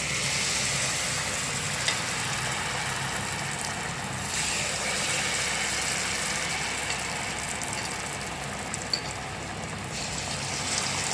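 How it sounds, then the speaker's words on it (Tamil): Banana fritters (pazham pori) deep frying in hot oil make a continuous, close, bubbling sizzle with occasional light stirring clinks, steady and even from start to finish. "ஒன்று ஒன்றா வந்து ஃப்ரை பண்ணி எடுத்துக்கலாம்."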